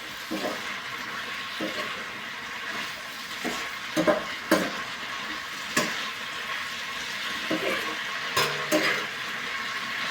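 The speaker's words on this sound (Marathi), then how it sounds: "पाणी असल्यामुळे त्याचा आवाज असा शिजल्यासारखा येत राहतो" Vegetable curry of broad bean pods and brinjal cooking with water in a pan, a continuous soft sizzle and bubbling simmer broken by occasional clanks and scrapes of a spoon, close up with no talk.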